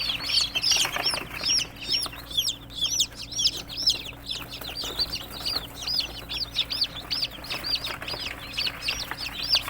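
Many young chicks cheeping together in a brooding area, a dense chorus of rapid high peeps overlapping continuously at close range, with a faint steady hum underneath.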